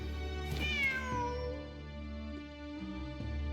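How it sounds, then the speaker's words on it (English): A cat in the video game Genshin Impact gives one clear, drawn-out meow with a falling pitch, close and alone over a quiet steady game background. "Wait, there it is! The cat!"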